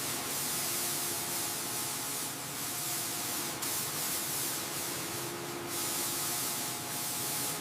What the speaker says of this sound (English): Keep the coats even on the lower panels.